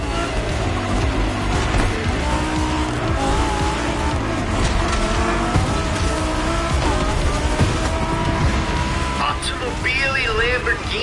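Lamborghini and Ferrari cars racing in The Crew Motorfest on PlayStation 5, a dense, loud, continuous roar of engines with tire noise throughout, mixed with game music and effects.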